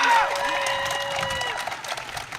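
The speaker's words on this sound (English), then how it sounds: "Could y'all clap that up?" Applause and cheers from a crowd at an anti-racism protest rally in Dearborn, a short burst of clapping with voices mixed in, fading after a moment.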